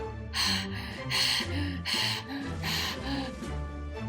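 A voice imitates heavy panting: rhythmic, breathy gasps repeating about every half second, close and loud, with no words.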